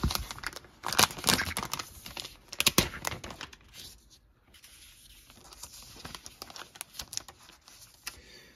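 Crinkling and tearing of plastic wrap being pulled off a new Apple iMac keyboard, loud and busy at first and then easing into softer rustles, close up with no talking.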